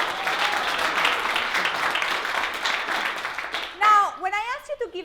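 A keynote audience at a Harvard Extension event gives a round of applause, a dense, steady clapping that carries for several seconds. Then it cuts off abruptly and a voice begins speaking.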